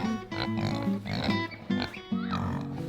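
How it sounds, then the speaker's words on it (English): Pigs kept on a homestead with chickens grunt and oink in a steady, overlapping series of low snorts, close and fairly loud, with no talk. "We've got our pigs and our chickens together"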